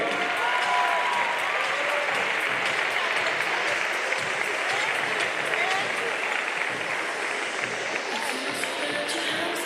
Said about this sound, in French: Mesdames et messieurs, on peut encore les applaudir très très fort